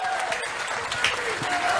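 A public rally crowd at Gandhi Nagar market claps, with a brisk, continuous burst of applause from many hands that stays fairly close and loud throughout.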